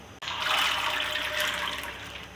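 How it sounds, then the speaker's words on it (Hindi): Lentils pour into two glasses of hot water in a pot, giving a steady broadband splashing rush after a short click, close and alone with no talk. "और सबसे पहले इसमें मैं दाल ऐड करती हूँ,"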